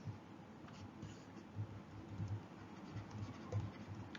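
Pen scratching across paper as notes are handwritten for a secondary school science lesson, a soft continuous scribble with small taps, close and quiet, with no speech.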